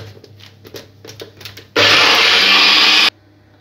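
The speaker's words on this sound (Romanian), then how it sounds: "Poate vă întrebați de ce am ales să dau verdeața prin blender" Light rustling and tapping give way to a loud, steady roar of a blender grinding herbs with a little water for over a second, then stopping abruptly.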